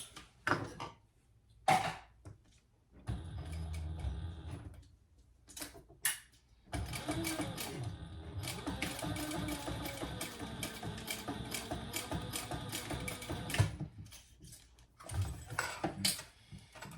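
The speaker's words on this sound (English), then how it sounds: "So I am just going to secure that with 2 rows of stitches" A sewing machine stitches two rows on a small sling pouch, starting with a few short, stuttering runs before a long steady stretch of fast stitching, then stopping with brief clicks, all soft and close.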